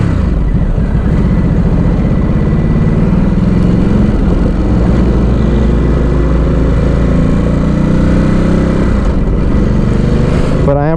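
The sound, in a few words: Ducati Supersport S motorcycle engine while riding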